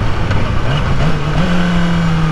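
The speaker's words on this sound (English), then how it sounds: "That was a lot of very crisp downshifts" Motorcycle engine under way on the road, its drone stepping up in pitch through several crisp downshifts, loud and steady with wind noise throughout.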